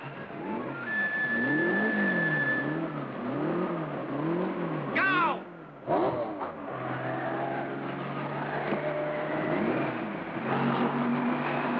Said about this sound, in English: Start engines!